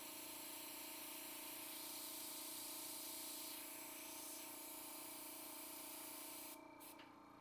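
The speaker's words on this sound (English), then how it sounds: "my airbrush is blasting way more than it should be right now, or my air compressor" An airbrush sprays acrylic paint on a Halloween painting, fed by an air compressor and blasting too hard: a continuous close, even hiss that holds steady, then weakens and sputters near the end.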